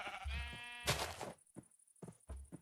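A Minecraft sheep lets out a wavering bleat up close, followed by a breathy burst and several short soft thuds spaced apart, with no talk.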